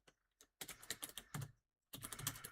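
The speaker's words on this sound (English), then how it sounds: "I'm just going to use the keyboard" Rapid bursts of computer keyboard typing sound close and crisp, with clustered key clicks broken by short silent pauses.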